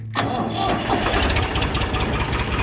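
A Ford 445D tractor diesel engine cranks and catches at once, then runs on with a loud, steady, close rumble.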